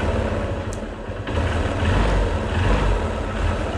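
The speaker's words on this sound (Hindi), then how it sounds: "इंजन अब अच्छी तरह से रेव भी कर रहा है।" Bajaj CBZ Xtreme motorcycle engine running after centrifugal oil filter and strainer cleaning, a dense continuous roar that rises in level partway through as it revs up freely, heard close and alone.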